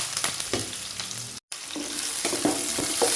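Onion, mustard seeds and curry leaves fry in coconut oil with a steady, close sizzle and light crackles. The sound drops out for a moment partway through, then carries on.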